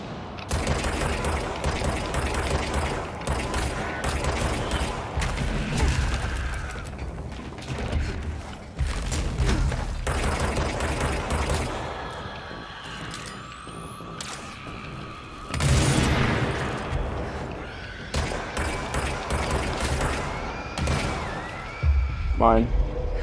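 Weapon fire and mechanical effects in the video game Control, dense and continuous bursts with booms and clanks layered under frequent talking, with a quieter stretch midway before the noise picks up again.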